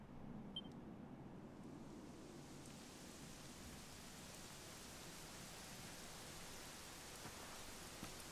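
Steady, soft rain in Dragon Quest XI hisses continuously at low volume, an even wash of noise with no voices.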